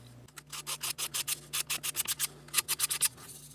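Resin on a guitar fretboard is hand-sanded in quick, even back-and-forth strokes, about a dozen rasping scrapes close to the microphone, with a faint low hum underneath and no talk.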